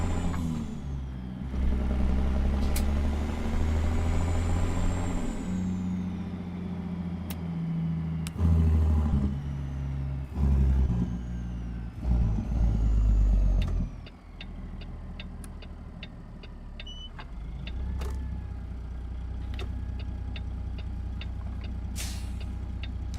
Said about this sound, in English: And that is a lot of traffic.